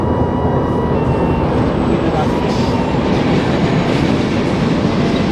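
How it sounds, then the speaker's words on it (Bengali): A train rumbles past on a railway line beside a rural spot, a loud, steady roar with rhythmic wheel clatter over the rails holding close and continuous throughout. "আর পাশে ট্রেনের শব্দ হচ্ছে, এই পাশে ট্রেন চলে, রেল লাইন আছে"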